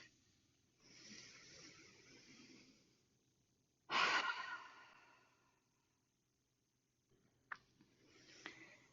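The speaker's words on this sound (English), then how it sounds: "Start to take a deeper inhale, a deeper exhale through the mouth" A slow breath is drawn in quietly, then a single deep exhale pushes out through the mouth, close and breathy, followed by softer breath sounds in a quiet room during a yoga session.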